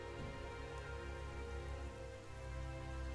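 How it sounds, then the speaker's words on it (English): Steady rain patters on surfaces in the video game Genshin Impact, a soft continuous hiss under a low ambient drone, faint and without talking. "Why is it raining all of a sudden?"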